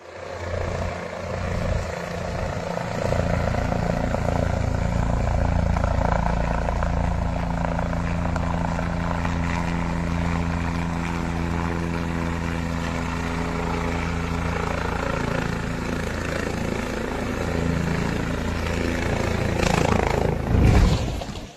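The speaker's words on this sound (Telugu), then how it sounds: "ల్యాండింగ్ సమయంలో హెలికాప్టర్ బ్యాలెన్స్ తప్పటంతో పైలట్స్ దాన్ని అదుపు చేయలేకపోయారు" A helicopter thrums loudly nearby, its rotor beating low and continuous while the engine whines, the pitch shifting slightly as it descends, losing balance during landing before crashing in Mahad, Raigad district, Maharashtra.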